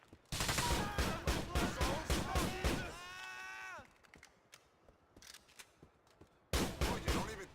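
Rapid bursts of automatic gunfire ring out in GTA IV, loud and close, followed by a lull with faint clatter and then another sharp volley of shots.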